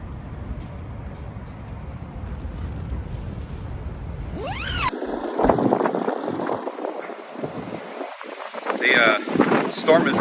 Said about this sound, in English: The storm is rushing in big time.